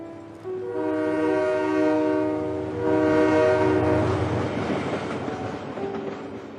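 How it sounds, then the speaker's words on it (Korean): A train pulls into a station with a long, loud horn blast, then rumbling wheels and clattering cars as it rolls nearer and slows. "드디어 기차가 죽음 정거장에 도착했다."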